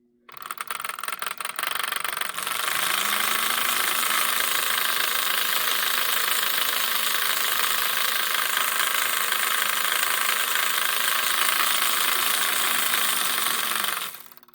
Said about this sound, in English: So I was thinking the motor's hitting something. Something's definitely wrong with this locomotive